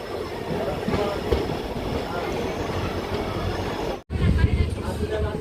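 A passenger train pulls away and rolls along the tracks with a continuous rumbling clatter, briefly cutting out near the end before resuming loudly.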